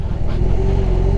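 A BMW R18 motorcycle sets off, its engine giving a dense, continuous low rumble that rises slightly in pitch as it pulls away, loud and close with no voices.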